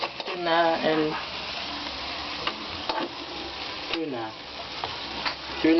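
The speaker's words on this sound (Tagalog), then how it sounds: "The oil first, and stir it for quite some minutes." Tuna stirred in hot frying oil, a steady sizzle and scrape running under a voice talking throughout, with a few brief clinks of the utensil against the pan.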